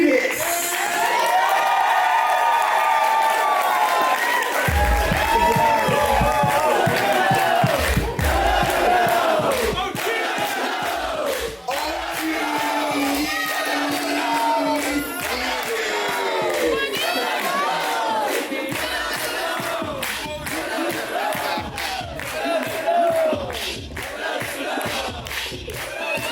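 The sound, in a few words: audience applause and cheering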